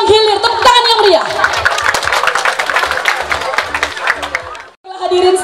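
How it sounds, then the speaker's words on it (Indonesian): Audience at a school arts performance applauding, with dense clapping and crowd noise that build and fill most of the clip, while a voice talks over it at the start and end. "Tepuk tangan yang meriah."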